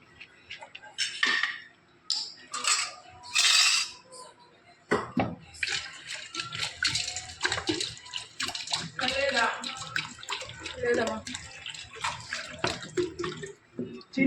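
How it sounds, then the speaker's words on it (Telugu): Water pours into a vessel in bursts, splashing and trickling close by, with people talking over and between the pours. "మళ్ళీ నీళ్ళు నింపేద్దాం."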